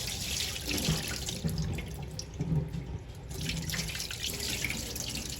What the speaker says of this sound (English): I'm gonna pour this water off this quinoa.